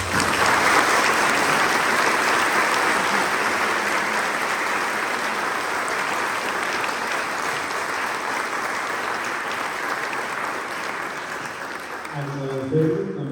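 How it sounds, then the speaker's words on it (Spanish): Audience applause for candidates after a university engineering faculty debate, a sustained crowd clapping that stays strong for over twelve seconds before fading, with a voice beginning to speak at the end. "Les pido que les demos un fuerte aplauso."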